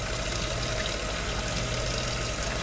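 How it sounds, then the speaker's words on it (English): Fresh, cool water pours steadily and continuously into a container while yogurt is being made, a broad, even rushing wash with a low mechanical hum beneath it and no talking. "Adding that little bit of fresh, cool water."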